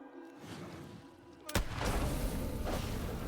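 A single loud gunshot cracks out in The Quarry horror game, sudden and close after a quiet moment, followed by a booming, rumbling tail that lingers to the end.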